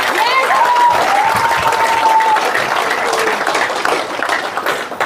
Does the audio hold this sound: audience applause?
yes